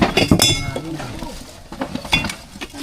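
Broken glass bottle pieces clink and rattle near a farm hole being dug out for a king cobra, with repeated sharp clinks and scraping under nearby voices.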